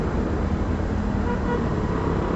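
Dense road traffic as heard from inside or beside a moving vehicle: a steady, loud broadband rumble of engines and tyres with a faint hint of horns, no voices.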